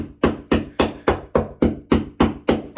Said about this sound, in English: I started chipping this literally with a hammer.